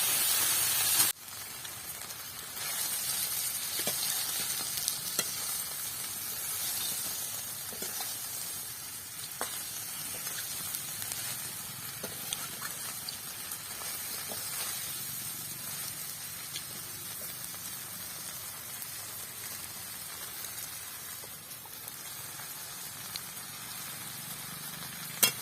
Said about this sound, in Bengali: চিংড়ি মাছগুলোকে ভালো করে লাল লাল করে ভেজে নেব।